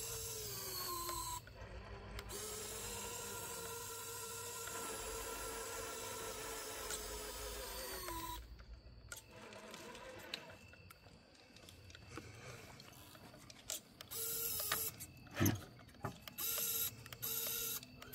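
Dual motor winch on a TRX4 High Trail K10 RC truck whirring steadily as it pulls, a high motor whine running for about eight seconds before stopping, followed by short bursts of mechanical noise.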